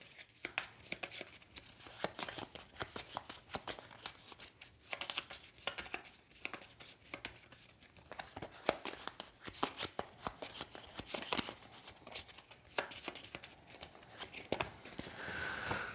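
Cards being drawn and handled during a solo game of the Shadowrun Crossfire card game, a steady run of quick papery slides and flicks at close range with no talk.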